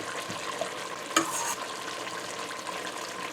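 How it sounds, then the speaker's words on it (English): Steady, gentle sizzling of dal in a hot pressure pot, with a brief clink partway through and no talking. "We're coating or sizzling the dal."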